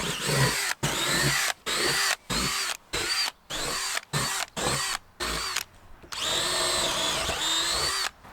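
A power drill bores drainage holes, whining in short repeated bursts separated by brief pauses, close and clear with no talking.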